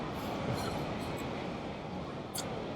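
A train rumbles along the rails with a steady low roar and faint clatter, and a brief high squeal cuts in near the end.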